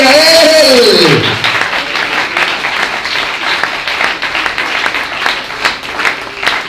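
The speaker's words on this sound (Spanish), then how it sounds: "dele ese aplauso al Señor" A church congregation applauds during an evangelical service, with steady many-handed clapping that follows a loud sung or shouted voice at the start and continues at a moderate level with bursts of cheering.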